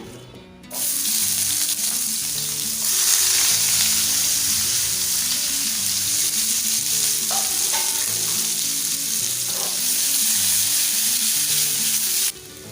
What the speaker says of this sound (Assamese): এতিয়া পুনৰ সেই কেৰাহীখনতে মই তেল দিলোঁ আৰু লগতে যোনখিনি মই পিঁয়াজ কাটিছিলোঁ সেই পিঁয়াজখিনি ইয়াতে দি দিম